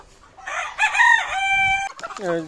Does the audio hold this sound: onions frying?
no